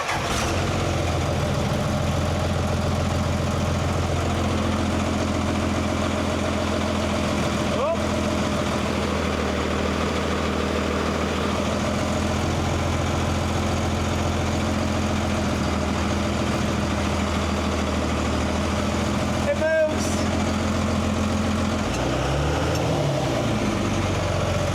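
Mini Mack A40 truck engine idling steadily with a loud, continuous low rumble throughout, a couple of sharp clicks and a brief shift in pitch near the end.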